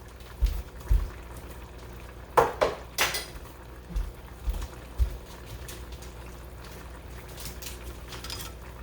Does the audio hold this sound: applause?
no